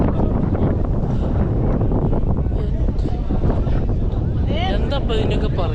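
Strong wind buffets the microphone on the Kolukkumala hills near Munnar, roaring loudly and continuously, with people talking under the gusts.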